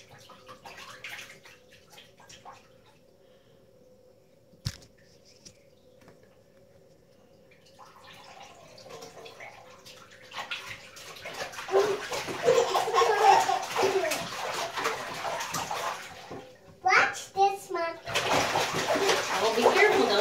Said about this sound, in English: Abu, can you make it splash?